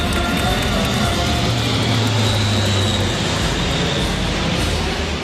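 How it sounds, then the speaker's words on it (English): An Atlas military transport plane makes a flypast directly overhead at a ceremony, a loud, sustained engine roar with a droning propeller hum that fills the whole stretch. "were treated to the most spectacular flypast directly overhead"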